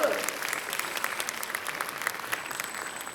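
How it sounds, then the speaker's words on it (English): A room of people clapping at a conference event, a steady spread of applause running the whole stretch at moderate distance, with some voices faintly mixed in. "Big round of applause to everyone."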